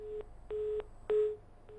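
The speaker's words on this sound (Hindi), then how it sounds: "लगता है कि फोन काट दिया डॉक्टर मनीष ने।" Repeating busy tone on a disconnected phone line during a live news call-in, short evenly spaced beeps at steady pitch, four pulses, moderately quiet with faint line hiss between them.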